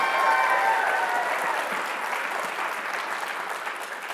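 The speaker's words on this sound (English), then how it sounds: "I don't know if my speech is better than the applause I just got" An audience at a family conference keynote applauds, a dense roar of clapping hands that starts full and gradually thins out over a few seconds, with no speech over it.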